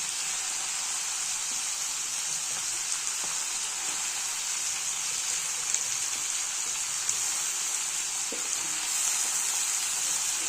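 Brinjal and tomato sautéing in hot oil for a brinjal chutney, giving a steady, close sizzle with occasional soft stirring clicks throughout.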